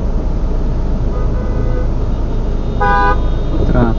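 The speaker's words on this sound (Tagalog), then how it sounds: "Traffic." Busy road traffic on Sultan Road rumbles loudly and continuously, then a car horn toots twice near the end over the engine noise.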